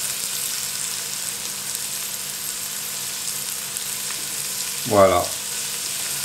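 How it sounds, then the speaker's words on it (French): Morel mushrooms frying in a pan while blanquette of scallops is prepared, giving a steady, soft sizzle throughout with a brief louder burst near the end, and a single spoken word. "Les morilles que je vais faire cuire dès le départ."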